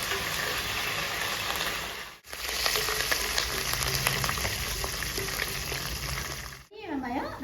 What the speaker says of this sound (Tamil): இப்போ இதில் கொஞ்சமாக கருவேப்பிலை நம்ம ஆட் பண்ணிக்கலாம்.